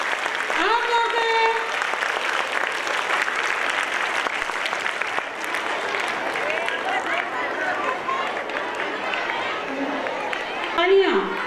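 An audience claps continuously at a school annual gathering. The dense, steady clapping fills the hall while a voice over a loudspeaker talks above it, with a whistle-like squeal near the start.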